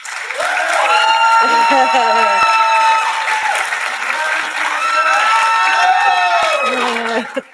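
Graduation hooding audience applauding and cheering steadily, a dense, loud wash of clapping with whoops and shouts rising through it from start to finish.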